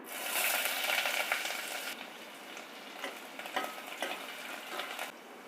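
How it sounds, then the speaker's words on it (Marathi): Onions sizzle in hot oil with whole spices (cardamom, cinnamon, cloves and mace) for a dal and potato amti, a steady close crackle with small ticks and pops, louder at first, then settling to a softer, even fry. "कांदा छान फ्राय होते"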